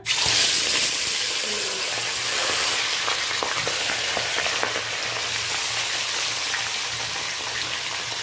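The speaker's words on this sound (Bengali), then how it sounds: "তেলটা বেশ গরম হয়ে গেছে বন্ধুরা। এখন আমি মাছগুলোকে ভেজে নেওয়ার জন্য" Fish pieces fry in hot mustard oil in a wok, giving a loud, steady, crackling sizzle that runs unbroken throughout with faint clinks now and then.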